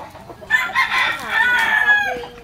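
A rooster crows loudly and close by, a long strained call with clucking hen-like notes mixed in.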